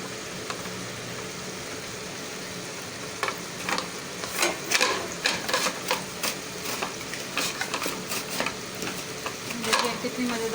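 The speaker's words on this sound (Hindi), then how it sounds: "प्याज हमने जो फ्राई करके रखी थी वो डालेंगे।" Fried onions stirred into a pot of beef nalli biryani, a spoon scraping and clattering against the pot in irregular quick strokes over a soft background sizzle, close and moderately loud.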